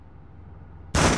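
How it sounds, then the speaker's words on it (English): Low, quiet background rumble from the 2004 Spider-Man 2 video game, followed at the end by a sudden loud blast of gunfire from street thugs firing at police. "Some thugs are shooting at the police!"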